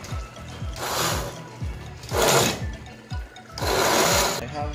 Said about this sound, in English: I'm gonna give this a little blend with my hand mixer